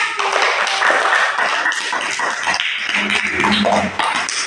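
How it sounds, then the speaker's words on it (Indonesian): A classroom of students claps for a group, a continuous patter of hands that is fairly loud and steady throughout, with some voices mixed in. "Beri tepuk tangan untuk kelompok 1"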